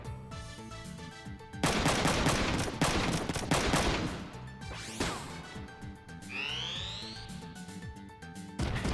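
Shotgun fire in a video game comes in a rapid barrage of loud, sharp blasts. Metallic clanks and a rising whine follow over a steady musical drone.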